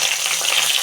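Curry leaves sizzle and crackle in hot oil with chopped ginger for a rasam tempering, a steady, close, bright frying hiss with no talking.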